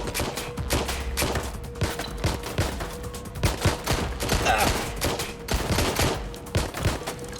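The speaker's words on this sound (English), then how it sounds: "They're shooting!" Rapid bursts of gunfire in the video game Watch Dogs Legion, a dense volley of overlapping shots and automatic fire crackling steadily throughout, loud and close.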